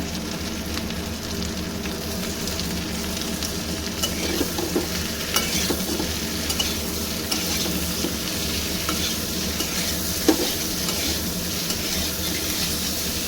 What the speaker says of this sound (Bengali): আলু পটলটা একটু ভাজবো আলু পটলটা ভেজে নিয়েছি